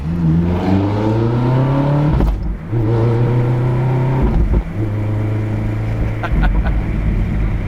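A Ferrari converted to a gated manual gearbox accelerates hard up close, its engine climbing through rising harmonic sweeps, with sharp dips and gear changes between pulls and loud revving throughout.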